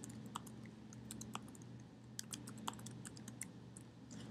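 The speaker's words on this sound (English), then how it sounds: "I'm going to type in a new serial dilution" Someone types on a computer keyboard while entering values into a spreadsheet, producing quiet, quick, irregular key clicks with no talking.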